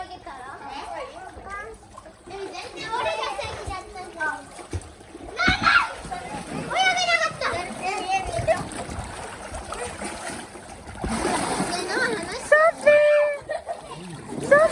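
Kids splash and shout in a backyard swimming pool, water slapping and sloshing in irregular bursts while excited children's voices and adult chatter carry over the play nearby.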